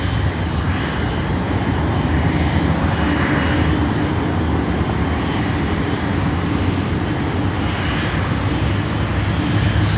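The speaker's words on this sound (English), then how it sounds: "China Airlines 777 is moving." A China Airlines Boeing 777 taxiing at a busy airport gives a steady, loud jet-engine roar that holds without a break, with a broad rumble and airy hiss mixed together.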